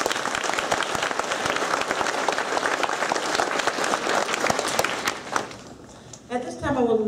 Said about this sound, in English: Let's give Camille and Anthony another round of applause